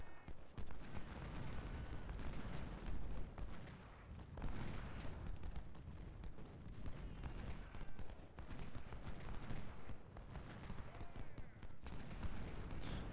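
Musket fire from Civil War infantry lines at Stones River in the strategy game Ultimate General: Civil War, a continuous crackling rattle of volleys with low rumbling booms, dense and distant, with someone talking over it.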